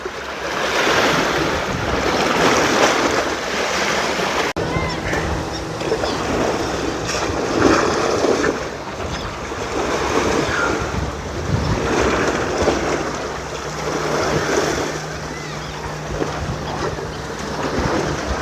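Sea waves roll onto an Egyptian shore at a slightly high, choppy tide, a continuous loud surging wash with gentle swells and gusts of wind rumbling against the microphone, with no voices.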